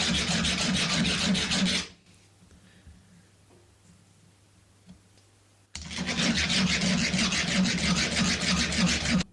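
A hand file rasps against the inside of a stainless-steel ring being shaped from a screw nut, in two long, close, steady bursts of rhythmic scraping separated by a quiet pause of a few seconds.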